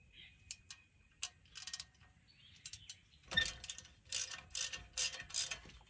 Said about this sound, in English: there's gonna be a bolt on the rotor here. It's gonna be a T30. I'm gonna go ahead and take that off